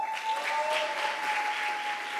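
A church congregation claps during a sermon, a brief, moderately quiet wash of applause with a steady tone humming beneath it.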